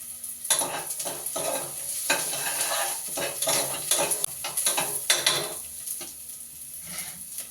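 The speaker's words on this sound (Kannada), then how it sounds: "ಮೆಣಸಿಕಾಯಿ ಆ್ಯಡ್ ಮಾಡಿ ಚೆನ್ನಾಗಿ ಫ್ರೈ ಮಾಡ್ತಾಯಿದ್ದೀನಿ" Green chillies frying with onions in a hot pan, loud crackling sizzle with repeated scraping stirs of a spatula against the metal, the spitting bursting up and fading in waves, close and with no voices.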